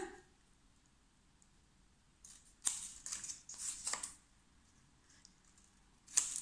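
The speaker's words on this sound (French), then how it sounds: "Je vais couper un petit peu mes angles." Scissors snip the folded corners of a handmade handbag notepad holder, a few short crisp cuts in close succession, quiet and near with no talking.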